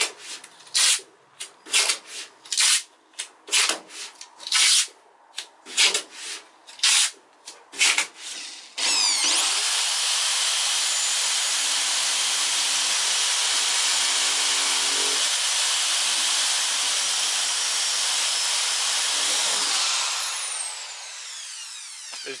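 A series of short loud drilling bursts into a Vauxhall VXR with pauses, then one long continuous drilling run that holds steady before winding down.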